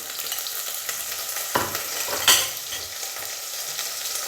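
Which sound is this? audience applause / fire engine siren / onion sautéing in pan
onion sautéing in pan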